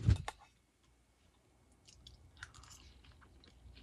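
Soft, close crunching and chewing of fresh bigleaf maple blossoms, a few sharp bites at first followed by quieter, irregular mouth noises.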